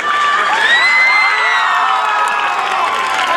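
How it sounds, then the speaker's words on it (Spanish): Students of the 2016 graduating class at Colegio Beata Imelda are cheered loudly, with a roaring crowd of young voices, shrill whoops and shouts, and light clapping running continuously at close range. "Fuerte aplauso para todos ellos"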